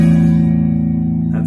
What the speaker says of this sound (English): that's the sound of a perfect fourth together.